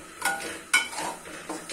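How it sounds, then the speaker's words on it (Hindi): Semolina roasted in desi ghee over low heat for traditional danedar halwa: a spoon scrapes and clinks against the pan in a few close strokes over a faint, gentle sizzle, with no talk. "सूजी को हल्की आंच पे भूनते जाएंगे"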